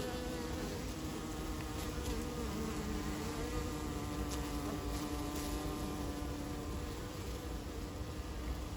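Honeybees fill an open hive at a city farm with a steady, close, even buzz that holds without break throughout, and no one speaks.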